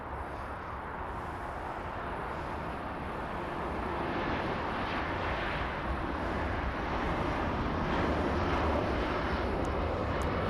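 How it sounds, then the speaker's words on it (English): A Virgin Atlantic airliner takes off at Los Angeles, its jet engines building from a moderate rumble into a louder, sustained roar that grows nearer toward the end, with no talk. "We do have Virgin Atlantic taking off."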